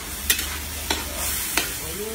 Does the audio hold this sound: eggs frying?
yes